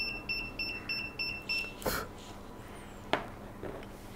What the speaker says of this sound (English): if I get close the fire, so the alarm is giving signal and the LED is blinking